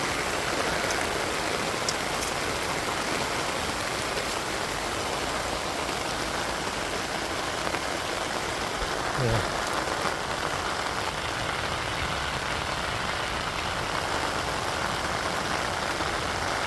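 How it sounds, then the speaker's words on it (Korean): Heavy rain pours outdoors at a blueberry field while water drains into a manhole through a drainage pipe, making a dense, constant roar of rushing, splashing water with no pauses. "지금 맨홀로 지금 물이 빨려 들어가듯이 물이 빨려서 지금 다 나가고 있습니다"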